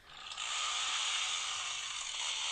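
A chainsaw sound effect played on a horror podcast, a buzzing mechanical drone that starts quickly and holds loud and steady for over two seconds with no talk over it.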